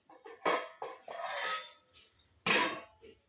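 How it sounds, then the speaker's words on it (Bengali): A lid goes onto a pot of gobindobhog rice in a home kitchen: a few close metallic scrapes and clanks, one longer rasping slide, then a final clatter as the lid settles. "ঢাকা দিয়ে দিব।"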